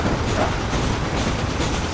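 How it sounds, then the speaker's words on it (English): A train rolls along in the video game Red Dead Redemption, a loud continuous rumble with rattling clatter filling the whole moment, no voices over it. "Jump onto the train."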